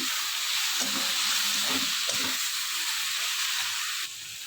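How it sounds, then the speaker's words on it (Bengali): Ginger-garlic paste and chili paste fry in a hot pan, giving a dense, steady sizzle and hiss up close, with a few soft spatula stirs and scrapes, before the level drops slightly near the end. "আদা রসুন পেস্ট আর লঙ্কা পেস্ট। এরপর আবার আমি এটাকে ভালো করে কষাবো।"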